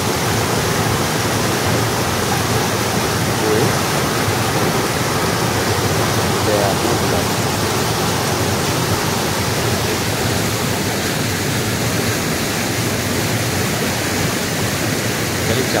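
Water pours steadily down a ghat beside a monsoon road, making a loud, continuous, broadband rushing roar close at hand while a voice speaks over it.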